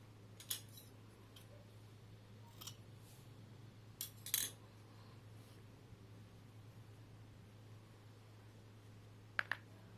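Scissors snip through crochet yarn in a few short, crisp cuts spaced apart, quiet and close over a low steady hum.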